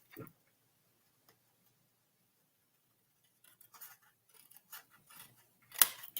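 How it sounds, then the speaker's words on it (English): Scissors snip off the excess end of a glued paper card in a paper craft, a few sparse, quiet clicks and cuts spread out, with one sharper, louder snip near the end. "So I'm just going to snip off the end there."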